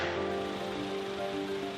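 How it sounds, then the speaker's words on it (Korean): Steady rain on a rainy afternoon, a continuous dense hiss with a faint droning hum underneath, unbroken and moderately loud throughout. "비가 오는 어느 오후"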